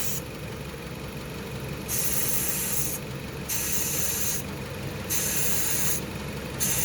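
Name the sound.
refrigerant hissing out while bleeding an overcharged Jeep Patriot A/C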